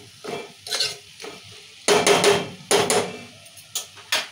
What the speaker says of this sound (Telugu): ఒక 2 నిమిషాలు ఇది ఇట్లా ఆయిల్లో మగ్గాలి, నూనెలో మగ్గాలి.